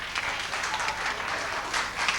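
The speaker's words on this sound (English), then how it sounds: "Let's give her a round of applause." Audience applause for a birthday guest on her 60th birthday at a staged game-show party, steady dense clapping filling the short moment on its own without voices.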